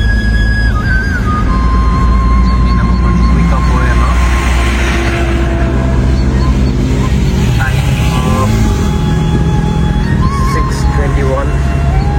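A car pulls out of a small side road onto a main road, with a steady loud engine drone and traffic noise throughout as someone talks over it.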